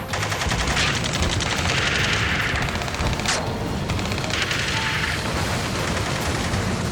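Rapid automatic gunfire and bursts in an Ace Combat 7 ground-rescue battle, dense and loud, with a couple of sharper cracks cutting through a continuous roar of shooting.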